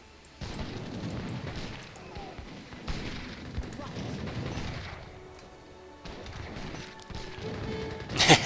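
Soldiers in Age of Empires III open fire, a steady stretch of crackling musket volleys and booming shots in the game, with a louder burst near the end.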